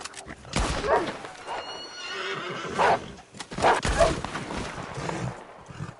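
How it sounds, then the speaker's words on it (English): Horse neighing several times in the Red Dead Online video game, loud whinnies recurring through the stretch with hoof clatter and low background noise, no talk. "Watch how tough this horse is."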